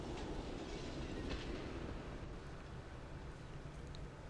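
A train passing in the Planet Coaster video game, a steady dense low rumble with faint clatter that stays constant throughout at a quiet, distant-sounding level.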